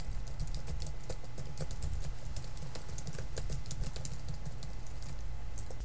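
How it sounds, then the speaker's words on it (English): Typing on a computer keyboard: a fast, irregular patter of light key clicks picked up faintly by a desk microphone over a low background hum. "So this is from my keyboard."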